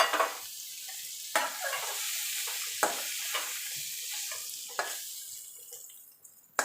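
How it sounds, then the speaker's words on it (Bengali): Pumpkin and bitter gourd frying in a pan while being stirred, with a continuous sizzle broken by periodic spatula scrapes and taps against the pan. The sizzle fades toward the end, and a sharp knock closes it. "এবার মিনিট খানিক একটুখানি নাড়াচাড়া করে নেব।"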